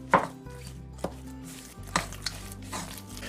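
Ground round being mixed by hand with ketchup, salt and pepper for broiled burgers, heard as a few soft, squelching thumps and taps against a bowl, close and quiet with no talking.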